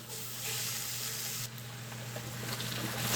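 Halal yak meat cooking in a pan gives a steady, faint hissing sizzle with a low background hum, a brief dip midway and a slight crackle near the end, no speech heard.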